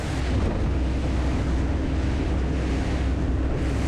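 Choppy, wind-driven sea slapping steadily against a maxi RIB on open water, loud continuous surf mixed with heavy wind rumble on the microphone, no talk.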